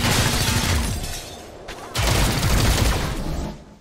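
Gunfire in the video game XCOM: Chimera Squad, a dense burst of rapid shots and impacts that briefly drops away and then resumes just as loud before fading at the end.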